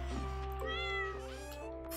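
A cat meows in a video game, a clear, drawn-out meow followed by a second shorter one, close and alone over a steady low game-music hum.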